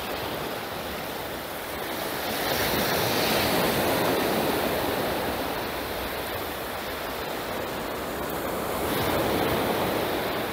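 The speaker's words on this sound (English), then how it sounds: "that wind blowing towards us now, it's really starting to push the water up" Onshore wind pushes waves against the shore at Browns Bay, giving a continuous broadband wash of surf that swells louder and eases again, with gusty wind rumbling on the microphone.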